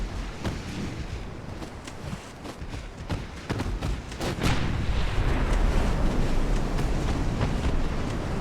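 Naval gunfire in the Ultimate Admiral: Dreadnoughts video game, an Austro-Hungarian 1890s fleet engaging with 6-inch guns: repeated sharp booming shots at irregular intervals over a steady rumbling, wind-like background, growing louder and denser midway.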